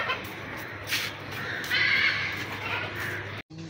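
Young male goat about three and a half months old calling among a group of goats, a few bleats rising above steady background noise, fairly close, with no talk over it.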